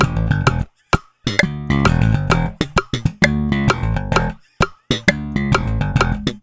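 A bass guitar plays a looped section of a 1989 funk-rock bass line, punchy and percussive with slapped, staccato notes and brief gaps, loud and close with no voice.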